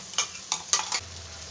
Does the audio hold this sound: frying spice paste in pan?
yes